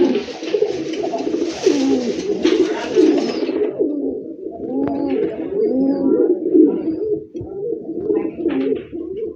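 Jacobin pigeons coo close by in repeated soft, throaty rolling calls, with a hissy rustle early on and a few faint clicks, and no talk.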